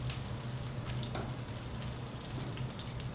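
Salmon fillet frying skin side down in a hot pan, a dense, steady sizzle with a faint low hum underneath, close and even throughout with no talking.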